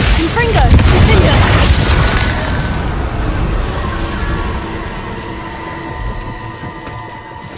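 A fiery blast spell erupts in a wizarding video game with a loud, roaring explosion that rumbles and slowly fades, and a voice is heard briefly at the start.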